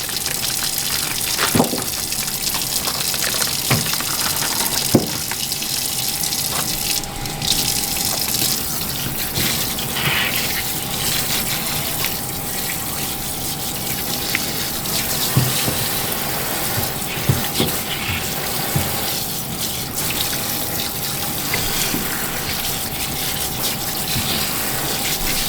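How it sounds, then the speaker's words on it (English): Costco chicken wings rinsed under a running kitchen tap, a steady gushing stream of water with occasional light clatter and splashes, continuous and fairly close, with no talking. "We're going to get these things rinsed and cleaned,"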